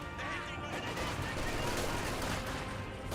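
Rifle grenade fired in Company of Heroes 2. The launch is masked within a short, dense burst of battle gunfire that continues throughout.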